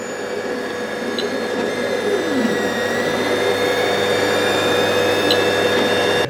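3D printer running a test print: a continuous near droning hum layered with faint steady whining tones, unbroken throughout and with no voices.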